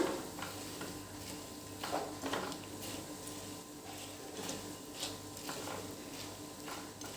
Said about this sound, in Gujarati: થોડી ગરમ થઈ ગઈ છે હવે એટલે બુંદી અંદર એડ કરી દઈશું. ને એક વખત એને સરસ આવી રીતે મિક્સ કરી લેવાની છે.